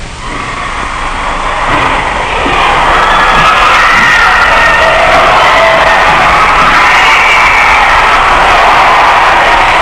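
A school cheering section at a championship game, a dense roaring crowd of shouts and cheers that swells over the first seconds and then holds loud and unbroken.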